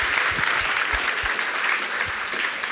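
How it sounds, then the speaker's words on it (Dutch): A Dutch student debate audience bursts into steady, dense applause, the clapping sustained and fairly loud throughout the short stretch with no voices above it. "Volt, een applaus."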